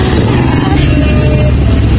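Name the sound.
motorcycle riding on street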